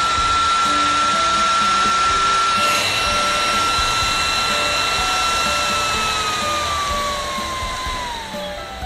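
A Goojodoq handheld turbo fan runs at level 100, a loud, steady high-pitched whine and rushing air held close, its pitch sliding slowly downward near the end.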